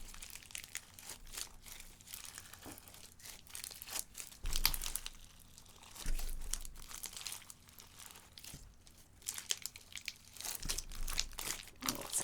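Slime mixed with shredded colorful construction paper crinkles and pops in a steady stream of small crackles, with a few louder squishy bursts, close up and without talk.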